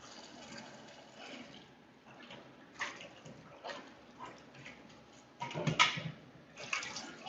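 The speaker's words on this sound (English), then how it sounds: "the running water, right?" Tap water runs over boiled ramen noodles being rinsed in a kitchen, heard as a low wash with irregular splashing surges that grow louder toward the end.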